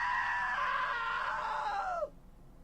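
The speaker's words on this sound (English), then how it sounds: "Now that was a great scream." A single loud, sustained scream in the video game What Remains of Edith Finch, held for about two seconds before sliding down in pitch and cutting off sharply into near silence.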